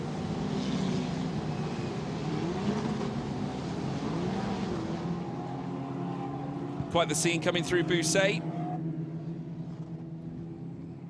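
Formula Regional European Championship race cars on Tata chassis at Paul Ricard push through a left-hander, kicking up spray on a wet track. A broad engine roar swells with a brief burst of sharper revs while a commentator talks throughout.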